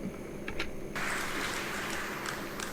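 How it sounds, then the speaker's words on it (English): Audience at the COP27 climate conference opening remarks breaking into applause that swells suddenly and continues as a dense, fairly quiet wash of clapping. "they rose to thunderous applause for that statement."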